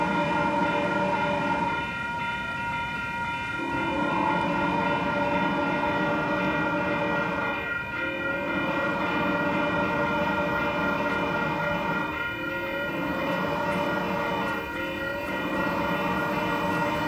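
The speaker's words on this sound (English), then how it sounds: "I like this crossing signal" A railroad crossing signal at San Clemente Pier, California, plays a recording that sounds like a steam locomotive as a southbound Pacific Surfliner approaches. The loud, sustained tone rises and falls for many seconds.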